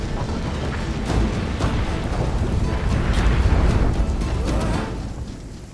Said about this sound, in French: je crois qu'il s'est pris un coup d'éclair